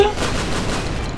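Loud, rapid gunfire from a weapon in the video game Call of DooM Sigil Ultimate, in a dense continuous burst, close and harsh, lasting about a second.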